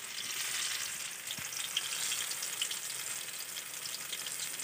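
Maruya banana fritters in batter frying in hot oil, a continuous close crackling sizzle that stays steady and even throughout without speech.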